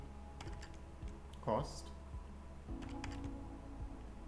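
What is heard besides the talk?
typing quantity and cost on computer keyboard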